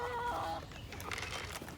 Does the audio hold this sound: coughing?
no